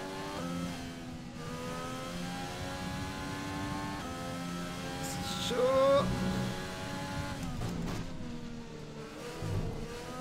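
Racing F1 car engine from F1 2020 during a Grand Prix, a steady high-pitched whine that rises and falls through gear changes, loud and continuous with no talk.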